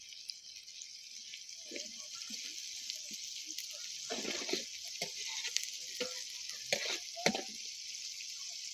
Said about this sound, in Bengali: পেঁয়াজ একটু নেড়ে দাও